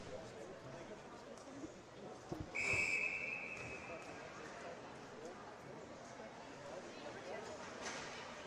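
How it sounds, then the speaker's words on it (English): A referee's whistle blows once at a high-school varsity ice hockey game between Peters Township and Bethel Park, a sharp steady blast of about a second amid arena crowd noise and a commentator's voice. "The whistle in the neutral ice area will lead to another faceoff right there."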